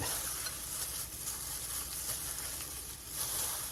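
Crab meat mixture stirred in a hot pan, with a steady broadband sizzle and a soft scraping stir running continuously, close and fairly quiet, without voices.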